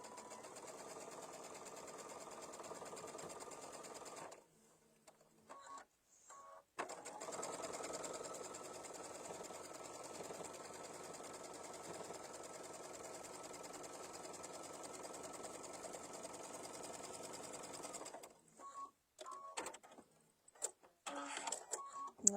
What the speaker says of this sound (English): Sew this on.